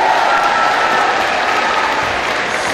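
Audience applause at an awards ceremony honouring entertainers, a loud, dense and continuous wash of clapping from a large crowd, steady throughout.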